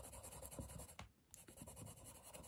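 Castle Arts colored pencil scratching across paper, close, soft rapid strokes with a brief pause midway before the steady scribbling resumes.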